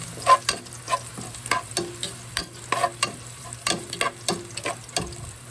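Onion and ginger sautéing for sayote gisado, with a spatula scraping and tapping the pan in a quick irregular rhythm over a low continuous fry, close by with no voices.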